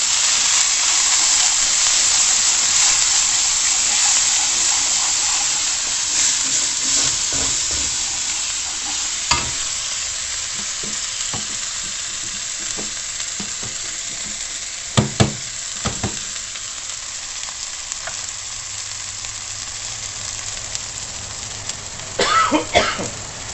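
Chicken curry sizzles and fries in a pan while being stirred, a continuous hiss broken by scraping strokes and a few sharp clatters, with a cough or throat clearing near the end.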